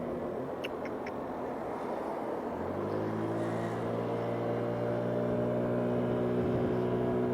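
A 50cc GY6 scooter slowing under braking, its engine drone steady at first, then dropping into a lower, even hum with wind noise, heard from the rider's position.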